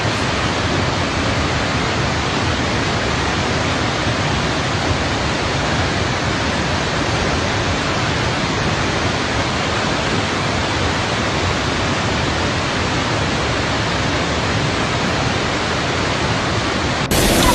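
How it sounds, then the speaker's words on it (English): Relentless floodwater rushes through streets, sweeping away cars and other debris, a loud, dense, unbroken roar that holds steady throughout with no voices. "Cars and other debris are swept away by the relentless flood."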